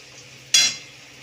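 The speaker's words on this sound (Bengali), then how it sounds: "এবার সবজি দিয়ে একটু নাড়বো।" A single short clatter of a utensil stirring fried vegetables such as capsicum into rice in a pan, with a brief soft sizzle fading after the stroke, close and fairly clear.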